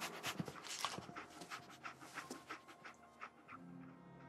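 A dog tracking a scent pants quickly and steadily close by, with short sniffing breaths and a faint whimper near the end, fairly quiet overall.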